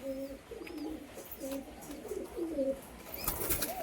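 Female pigeons cooing nearby in soft, repeated throaty calls at a steady rhythm, with a faint flutter near the end.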